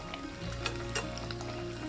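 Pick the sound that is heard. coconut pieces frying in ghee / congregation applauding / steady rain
coconut pieces frying in ghee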